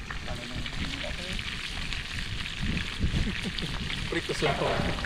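Food fries in a pan with a steady, close crackling sizzle that carries on throughout, while people talk nearby.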